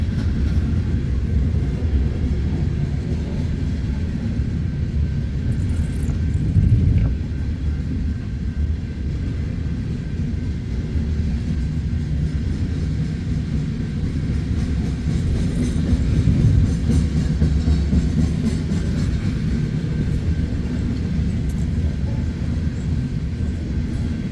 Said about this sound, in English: I believe it's going to be a unit train of grain